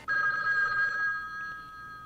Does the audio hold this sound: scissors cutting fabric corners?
no